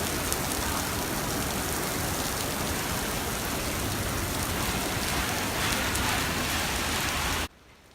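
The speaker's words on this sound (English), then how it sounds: "It's raining." Heavy rain pours down steadily on a hot night in America, a dense, even hiss of drops striking surfaces close by that runs unbroken for several seconds before cutting off abruptly.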